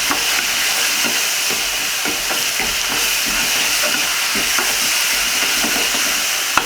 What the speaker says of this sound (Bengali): আদা রসুনটাকে হালকা করে ভাজা ভাজা করে নেব আমি